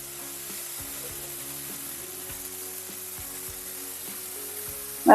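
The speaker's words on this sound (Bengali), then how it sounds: "পাশের উনুনে মা ডাটার ঝাল ভাজা বসাচ্ছে দেখো কড়াই সর্ষের তেল চলে দিয়ে চলে গেছে" Stalk curry frying in mustard oil in a kadai on a home stove, a quiet, steady sizzle with a low hum and scattered light clicks, ending in a sudden loud clatter.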